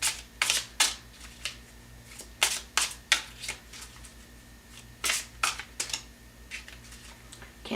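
A tarot deck is shuffled up close: a string of crisp, irregular card snaps and riffles in quick clusters, heard alone with no talking.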